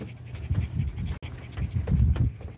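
A puppy pants close by in quick, rhythmic breathy bursts that continue steadily, with a brief gap partway through.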